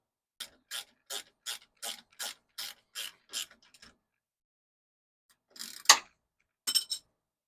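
A ratchet wrench loosens a nut on a shock absorber of a 1974 Ford F100 pickup, giving a close, steady run of about nine sharp clicks, a pause, then a few more irregular ratcheting bursts.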